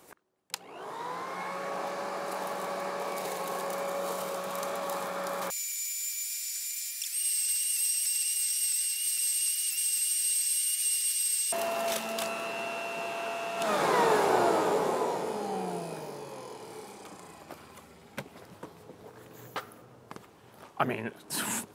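A Black & Decker lawn vacuum runs with a steady high whine, jumps to a harsher roar as it sucks up debris such as pine cones, then winds down to rattles and clatter.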